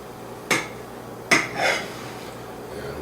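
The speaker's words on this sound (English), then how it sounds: "We'll cut a couple of slices to make sure that we've got enough for our" Knife cutting slices of cherry chip apple cake, two sharp clacks of the blade hitting a plate or board followed by a softer scrape, close and isolated in a quiet room.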